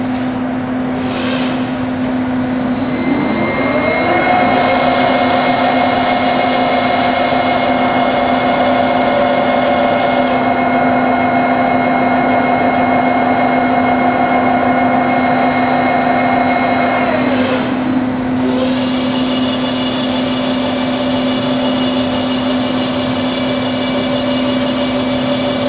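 A Cincinnati 450 CNC VerciPower horizontal-vertical mill runs a production cycle with a loud, steady mechanical hum and whine, a tone shifting partway through, then rising again near the end, with no one talking.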